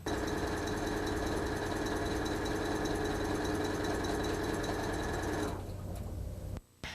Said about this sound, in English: The stitch information will now be sent to the sewing machine.